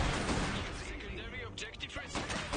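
Units firing guns in the 1920s alternate-history real-time strategy game Iron Harvest: a dense, continuous clatter of gunfire and bursts running the whole time, mixed with game noise and some speech.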